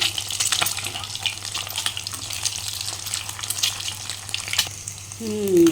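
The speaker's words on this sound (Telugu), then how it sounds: "ఎగ్స్ మంచిగా గోల్డెన్ కలర్ రావాలి బాగా వేసుకుందాం" Eggs frying in oil in a pan, a steady loud sizzle with crackles and scraping stirs throughout, rising at the end.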